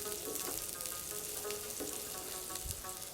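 Finely chopped onions fry with garlic in a pan, a continuous soft crackling sizzle with small pops throughout, close but fairly quiet.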